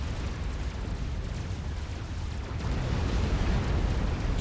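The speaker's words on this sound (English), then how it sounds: "there's still artillery shells falling" Artillery shells fall and explode during a Supreme Commander 5v5 battle, a continuous rumbling roar of heavy blasts overlapping with one another, dense and low, swelling louder toward the end.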